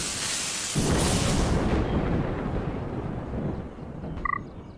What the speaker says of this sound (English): Activate lightning strike.